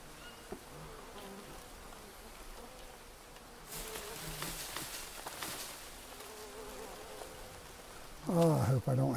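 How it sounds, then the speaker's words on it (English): Insects and bees buzzing in the jungle survival game Green Hell, a faint steady drone in the background, with a short louder sound near the end. "I hope I don't have to hear them bugs and bees continuously."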